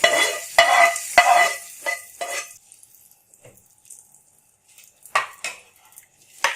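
Mango chutney is mixed in a bowl or pan with a spoon, producing sharp scraping, clinking stirs in quick bursts, then quieter soft scrapes and a few more strokes, close and with no talking.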